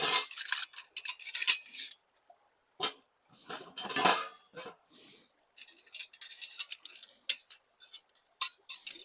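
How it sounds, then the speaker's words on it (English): Metal parts of a camping stove clink and clatter as the stove is put together outdoors, with quick irregular knocks and taps up close and brief pauses between them. "Let's assemble this stove really quickly."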